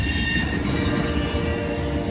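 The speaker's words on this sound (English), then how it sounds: "And it's a rail train." A rail train passing up close at a Muncie crossing, its wheels squealing in a steady, loud, sustained screech over a continuous rolling rumble for the whole stretch.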